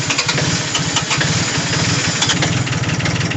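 A 1980 Kubota diesel tractor that sat unused for months, its engine cranking and catching into a loud, close, rapidly pulsing chug that holds steady and rough throughout.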